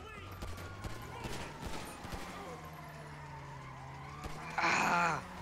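Enemy gunfire in GTA 5 during a car chase, with several sharp shots scattered under continuous engine drone and game noise and a louder burst near the end.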